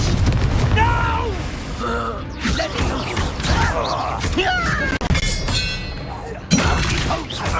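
A Confringo fire spell bursts in Hogwarts Legacy amid a dense mix of booming impacts, creaking magical effects and voices, with a sharper blast near the end.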